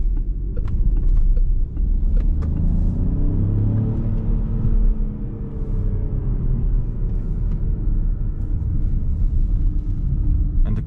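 A Peugeot 5008 48V hybrid GT driven at night in sport mode, its engine and road noise rumbling steadily from inside the cabin as the pitch rises and falls with acceleration, along with a few faint clicks.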